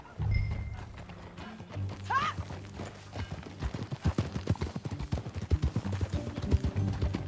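Horse hooves clip-clop at a steady riding pace in the video game Red Dead Redemption 2, near and fairly loud, with a brief whinny early on and low game ambience underneath.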